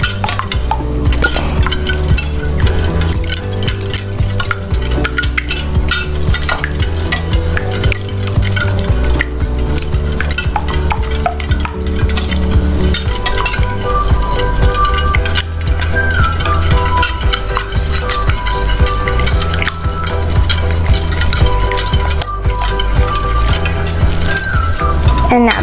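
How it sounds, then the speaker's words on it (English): A whisk beats an egg mixture for French toast in a bowl with a steady, continuous stirring rhythm, partly buried under loud background music for the whole stretch. "Let's whisk it all up."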